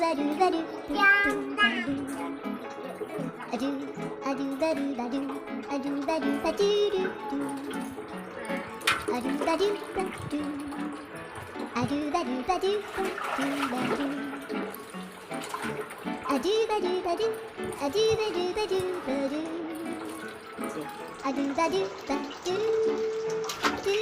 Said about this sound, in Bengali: কলতলায় বসে প্রীতম এখন জল ঘাটছে।